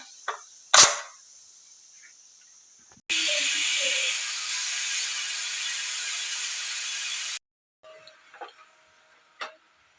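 A pressure cooker on a home kitchen stove lets off a loud, steady steam whistle lasting about four seconds, cutting off sharply, with a few soft clicks and clatters before and after.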